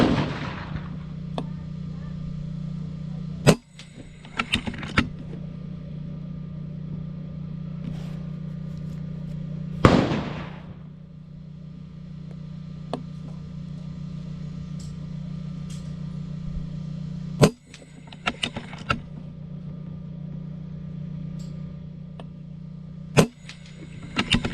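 FX air rifle firing slugs at a target, several sharp, loud shots spaced far apart over a steady low hum, with quiet handling noise between the shots.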